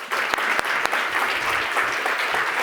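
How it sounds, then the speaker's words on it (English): A startup founders' event audience breaks into loud, close applause, a dense steady clatter of many hands with a few sharp individual claps near the start. "Give them all a round of applause"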